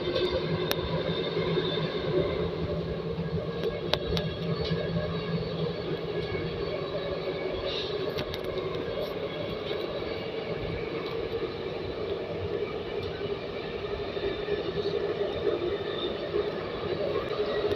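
Namo Bharat regional rail train between Delhi and Meerut climbing onto elevated track: a quiet, steady whirring hum with a smooth rolling drone heard from inside the carriage, no talk, only faint occasional clicks.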